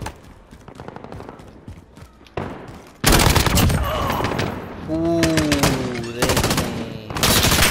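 Assault weapons fire in a video game, with dense, rapid bursts that get louder partway through, along with booms and a voice speaking briefly.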